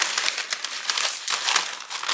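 Baking paper crumpled and rolled by hand into a makeshift piping bag for gingerbread decorating, a continuous close crinkling and rustling with small bursts throughout, no speech.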